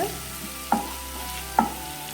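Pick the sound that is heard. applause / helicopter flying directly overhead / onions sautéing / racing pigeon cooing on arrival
onions sautéing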